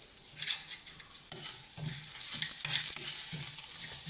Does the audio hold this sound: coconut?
yes